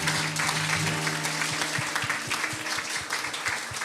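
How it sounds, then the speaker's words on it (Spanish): Applause from a congregation at a Spanish-language church service, steady dense clapping throughout, loud and close, with no talking over it. "Aplausos a nuestro Dios una vez más por tu palabra, Señor."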